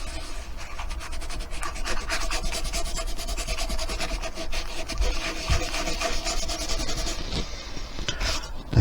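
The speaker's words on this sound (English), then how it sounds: "Get a bit of wax on the finger pad and then gently rub it up over here." Wax is rubbed onto a wooden cottage-style coat rack with a cloth finger pad, giving a steady, close, continuous scratchy rubbing with a faint low hum underneath and no talk.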